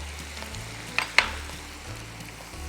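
Dry spices including black pepper powder stirred into tomatoes frying in a pan, a steady soft sizzle with two brief scraping clinks of a spoon against the pan partway through, close and alone.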